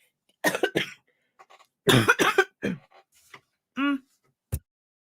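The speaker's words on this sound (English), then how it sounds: "I'm about to cough up a lung" Several harsh coughs in short bursts, close and loud, separated by brief pauses, with a throat-clearing sound and a short voiced noise near the end.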